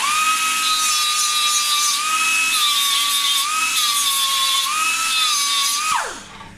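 A high-pitched power tool whines steadily while cutting a bevel prep on an aluminium motorcycle part for a Triumph Tiger 90 restoration, the pitch dipping slightly under load before it spins down at the end; no talking.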